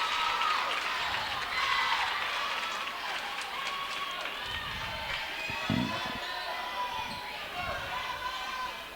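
Crowd noise from a high school basketball game between Richland and Gideon swells through a gym during free throws, with a steady murmur, scattered shouts and claps, and a ball bouncing on the court.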